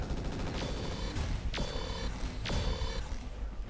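Weapons fire in the BattleTech mod RogueTech: three successive firing bursts roughly a second apart, each a sharp crack with a ringing tonal tail, over a dense, loud battle din.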